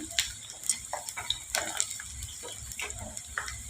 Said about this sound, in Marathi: आणि आता आपण हाय फ्लेमवरतीच हे फक्त तर एक मिनिटच तळून घ्यायचं आहे